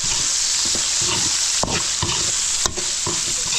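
Chicken breast and chicken liver sautéing together in a pan, a loud close sizzle with rhythmic stirring scrapes and two sharp utensil knocks against the pan, no voices.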